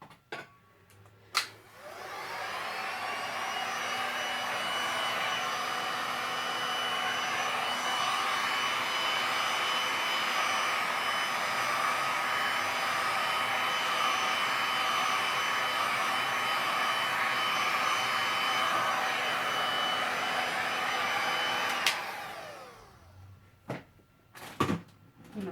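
A heat gun blows over a poured acrylic paint surface, a steady close airy whir that switches on, holds for about twenty seconds without talk, then shuts off and is followed by a few light knocks.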